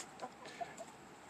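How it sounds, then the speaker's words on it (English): A backyard chicken, one of a small flock of three, clucks faintly near a compost area, giving a few soft, brief clucks over quiet outdoor background. "and here comes a chicken"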